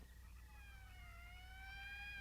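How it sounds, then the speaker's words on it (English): A rising and falling siren wails faintly in the distance from an approaching morgue wagon in a 1959 science fiction film, its tone sweeping up over a low rumbling background. "That's the fifth siren in the last hour."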